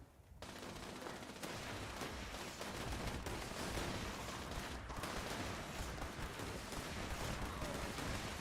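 Sustained gunfire from shooting mutants in Fallout 76, a dense, steady crackle of rapid shots running throughout at a low overall level.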